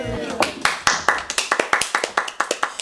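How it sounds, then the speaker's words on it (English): A few people clap in a quick, regular run of sharp, close, distinct hand claps, with a voice briefly at the start. "Applause for the pandemic."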